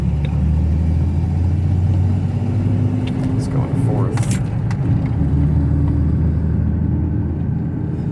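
A 10th-generation Ford F-150 pickup rolling along at about 15 mph, its engine a steady low rumble throughout with road noise and faint background sounds.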